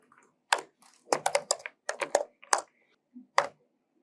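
Typing on a computer keyboard to enter a WP Scan version command, with short bursts of crisp, close key clicks in uneven clusters separated by brief pauses, no voices.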